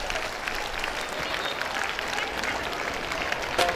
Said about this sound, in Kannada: ಜೋರಾದ ಚಪ್ಪಾಳೆಯನ್ನ ತಟ್ಟೋಣ